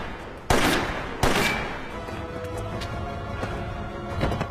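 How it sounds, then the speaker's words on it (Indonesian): Two sharp, loud gunshots ring out close together near the start, followed by a lingering echoing rumble. "Kang Chul terluka akibat tembakan."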